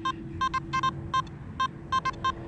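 A Nokta Simplex metal detector sounds a series of short, bright electronic beeps as it sweeps over a gold bracelet, about ten quick tones in irregular pairs and singles over a faint steady hum.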